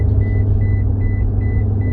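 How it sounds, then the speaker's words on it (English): Inside a car, the seatbelt alarm chimes in a steady, rapid series of short identical beeps over a loud, low engine and road rumble, with no talking. "seatbelt alarm"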